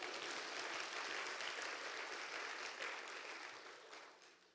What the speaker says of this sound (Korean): 박수를 좀 쳐.